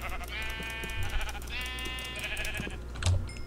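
A Minecraft sheep bleats twice in drawn-out, wavering cries over a low background hum.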